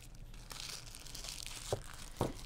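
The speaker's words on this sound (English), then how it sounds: "you can wrap your soap in tissue paper. So that is what I'm doing here" Soft tissue paper crinkles and rustles as a bar of handmade melt-and-pour soap is wrapped, with a quiet continuous crumple and two sharper crackles near the end, close and fairly faint.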